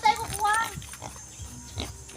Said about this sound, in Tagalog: Sa kanya ito baboy.